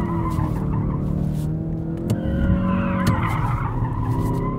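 A 2018 Ford Focus RS drifts with a sustained tire skid and squeal, the engine droning and revving underneath, loud and close throughout.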